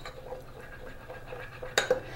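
A spoon stirring a spoonful of flour with two spoonfuls of olive oil in a small bowl, quiet scraping with a couple of brief clinks against the bowl near the end.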